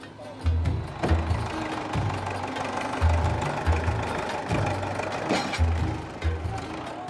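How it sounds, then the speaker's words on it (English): A tractor engine runs while towing a vehicle across a crossing, a steady rumbling drone with a repeating low, throbbing pulse that stays fairly loud and close throughout. "We get hooked up to the tractor, and it looks like we'll be across in no time."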